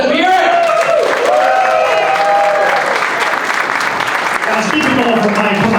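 Comedy club audience applauding a comic at the Stress Factory, a dense sustained wash of clapping and crowd noise, loud and steady throughout, with cheers and voices mixed in.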